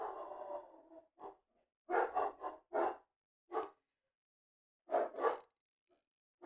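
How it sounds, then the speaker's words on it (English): Several dogs bark in short separate bursts with gaps of silence between, at moderate distance and fairly faint, in a quiet indoor setting. "I don't know what they're barking at."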